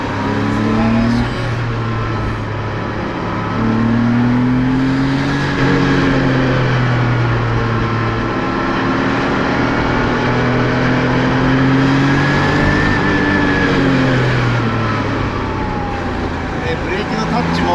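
Porsche 911 Speedster design study prototype engine during a driving run, a loud continuous drone whose pitch rises and falls with acceleration and shifts, close and prominent throughout.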